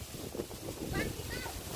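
Strong wind buffets a microphone outdoors in a forest while mushrooms are being gathered, producing low rumbling gusts, with a voice speaking over it.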